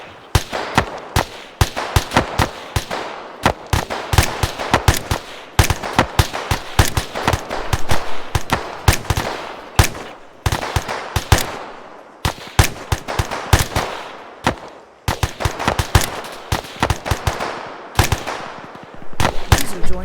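Dense rifle and machine gun fire from an Arma 3 infantry training session rattles continuously, with loud, close, rapid shots in bursts.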